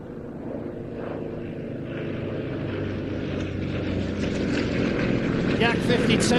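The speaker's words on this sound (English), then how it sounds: "Yak 52 with the black and yellow cowling" A Yak 52 propeller aircraft with a black and yellow cowling flies at the Old Buckenham airshow, its engine drone building steadily louder as it approaches, with a rising pitch toward the end.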